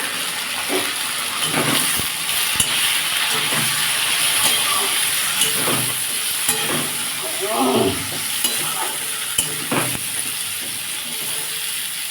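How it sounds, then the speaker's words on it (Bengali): Potatoes and flat beans fry in a pan with turmeric and salt, giving a steady close sizzle with scattered scraping stir strokes throughout, and no voices. "এটাকে ভালো করে লাল করে ভেজে নেব"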